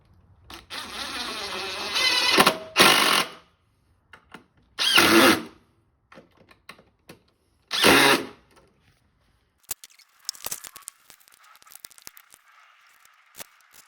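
A power drill runs in short bursts of a few seconds each with pauses between, tightening a fastener on a basic roller cart, followed by lighter clicks and a faint whine.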